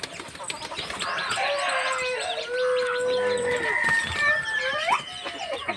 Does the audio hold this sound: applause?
no